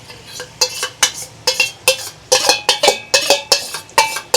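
A spoon or spatula scrapes and clinks against a pan while chili chicken is mixed with sauce, giving a steady series of sharp metallic knocks, close and loud, with no talking.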